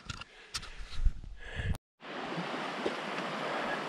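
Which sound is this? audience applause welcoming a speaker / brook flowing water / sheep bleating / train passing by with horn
brook flowing water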